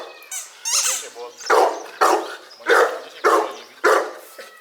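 A Boerboel, a large farm guard dog breed, barks loudly and close in a steady series of about six deep barks, preceded by some whining yips.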